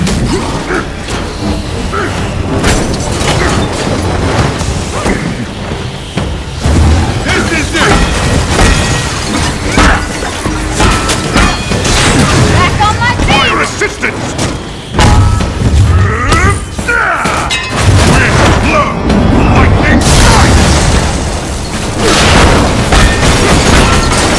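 Power cores being destroyed in the Marvel's Avengers video game, with repeated booms, thuds and crashing mechanical sounds that stay loud and dense throughout, mixed with game voices and effects.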